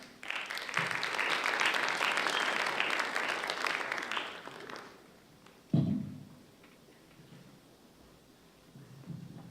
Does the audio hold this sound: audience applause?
yes